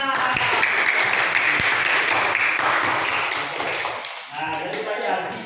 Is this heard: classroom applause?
yes